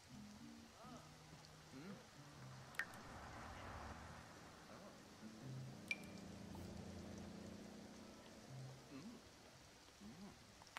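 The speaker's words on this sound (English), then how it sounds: "You want to play in the rain?" Steady rain patters across an outdoor scene in the life-simulation game The Sims 4, a soft continuous hiss with faint voices and game sounds beneath and two sharp clicks.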